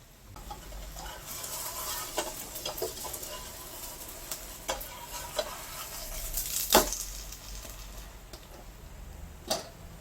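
A kimchi pancake fries in oil in a pan, a soft continuous sizzle with scattered crackles and pops and an occasional sharp clink of the spatula as it is flipped and pressed.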